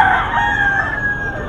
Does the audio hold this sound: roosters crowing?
yes